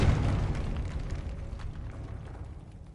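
A Confringo blasting spell explosion in Hogwarts Legacy, one loud low boom at the start that rumbles and slowly fades with crackling debris.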